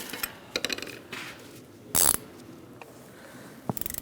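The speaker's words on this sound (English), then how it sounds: "Now I'm going to get my ratchet wrench." A ratchet wrench tightens a bolt on the accessory drive belt tensioner of a 2002-2006 Toyota Camry 2.4L four-cylinder, giving scattered short clicks and clattering bursts of mechanical noise, with one louder burst midway and a fast rapid clicking at the end.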